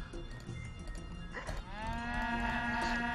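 Cows in the video game Age of Empires 3 give one long, drawn-out moo that rises clearly partway through, following a low background murmur of game ambience.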